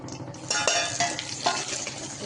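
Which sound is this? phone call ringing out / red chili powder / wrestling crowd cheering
red chili powder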